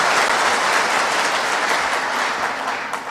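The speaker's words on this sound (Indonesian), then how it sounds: "perlu diberikan tepuk tangan untuk semuanya." Sustained, dense applause from an audience at an Indonesian police press conference, steady and fairly loud throughout before easing slightly at the end, with no talking over it.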